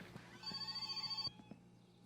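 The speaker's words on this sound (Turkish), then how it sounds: "Telefon çaldı." An old-style telephone bell rings inside a house in the video game My Summer Car, a rapid metallic trill lasting about a second, with a shorter burst after it, over faint background noise.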